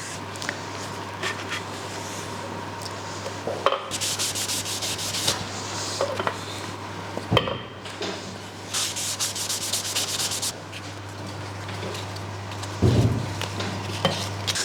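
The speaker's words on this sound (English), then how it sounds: "I'm going to put some sanding sealer on first so that it helps to seal the wood" Sanding sealer being rubbed onto a turned wooden platter on a lathe, heard as steady scratchy rubbing in long strokes with brief pauses and a constant low motor hum beneath.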